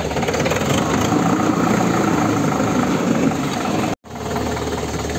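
A Preet 6049 tractor engine idles steadily nearby, a loud, even mechanical drone that cuts out for a brief moment before resuming.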